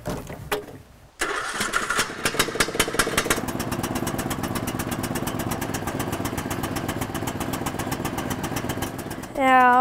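A motor on a homemade wooden box cart starts up with a sharp burst after brief noise, then settles into a loud, steady, rapidly pulsing engine drone close by as the cart drives off.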